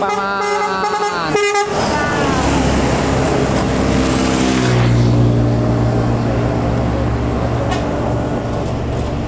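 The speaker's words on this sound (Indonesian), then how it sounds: "Masuk lagi satu unit bus Bintang Utara dari Medan, bosku." Bintang Utara intercity bus from Medan pulling in, a loud multi-tone horn blaring close by for over a second, followed by a heavy diesel engine rumble as it rolls in.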